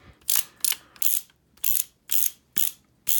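A revolver cylinder spins with sharp ratcheting clicks in quick repeated bursts, about seven bright mechanical rattles separated by brief gaps.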